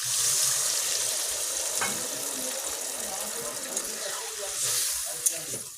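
Water poured into a pan of sautéed egg curry on a home stove, a steady sizzle and bubbling frying hiss rising as the water hits, with brief stirring clinks, close and continuous throughout.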